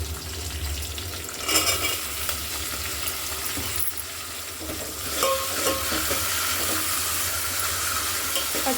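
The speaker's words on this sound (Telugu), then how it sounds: "మంచి వాసన పోయే వరకు వేయిస్తా" Snail curry with broad beans fries over high heat in a pan, a steady close sizzle with stirring scrapes and small clinks throughout, growing slightly louder in the second half, with no talking.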